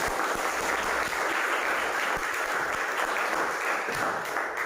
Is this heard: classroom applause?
yes